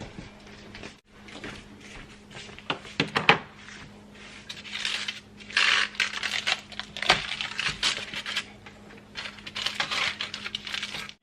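Thick peppermint Oreo bark being cut with a knife, heard as a run of crisp cracks, snaps and scraping clicks, close and irregular, with brief pauses between bursts.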